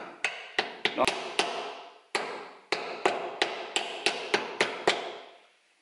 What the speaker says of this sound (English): So we'll just give that a little tap in.